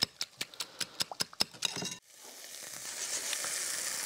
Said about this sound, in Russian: Карамелизация лука идет полным ходом